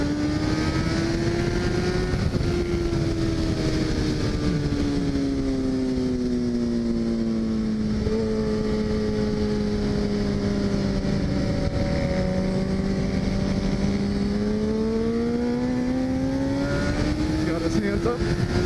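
Sport motorcycle lapping a race track at a trackday, its engine a loud continuous onboard drone rising and falling in pitch through gear changes and corners, with wind rush throughout.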